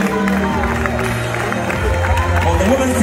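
An audience applauds at the Ghana Football Awards ceremony, a dense steady wash of clapping and crowd noise that continues throughout, with a presenter's voice over it.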